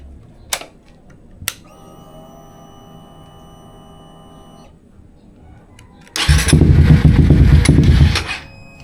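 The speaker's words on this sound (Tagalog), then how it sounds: "first try, ayaw niya umandar. Try natin ulit. Second try, ayaw pa rin umandar, ayaw tumuloy" A Suzuki GSX 150 motorcycle with an aftermarket exhaust on a stock ECU gives a few sharp clicks, a faint whine, then a loud two-second cranking churn that cuts off without the engine catching.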